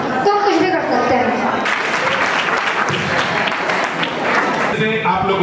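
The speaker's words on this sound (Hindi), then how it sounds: "एक बार फिर से जोरदार तालियों से इनका स्वागत" Loud, sustained audience applause fills a farewell ceremony at an arts coaching centre in Punpun, Patna, building to a dense peak of clapping mid-way while voices carry over it.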